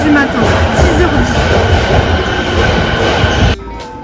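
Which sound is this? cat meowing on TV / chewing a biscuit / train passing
train passing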